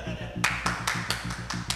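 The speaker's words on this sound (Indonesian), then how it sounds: "gak apa-apa dong tepuk tangan" A group of people clap hands in a steady rhythm of sharp, evenly spaced claps over a low hum, briefly, in an indoor setting during a heated dispute.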